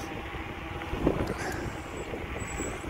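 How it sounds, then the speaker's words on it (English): Steady, close wind buffeting rumbles against the microphone while cycling into a headwind on a mountainside path, a continuous roar with no clear talking. "riding into the wind today, so I don't know if you're going to pick up my voice"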